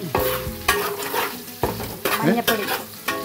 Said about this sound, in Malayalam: നാലഞ്ച് പച്ചമുളക് പിന്നെ കുറച്ച് കറിവേപ്പില നമ്മളിട്ടു അതിനുശേഷം നന്നായി ഇളക്കി കൊടുക്കുക